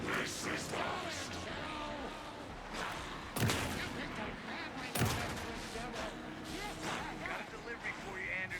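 Gunfire in the video game Alan Wake II: booming shots ring out amid a dense, noisy game soundscape, with two especially loud blasts standing out, while voices talk over the action.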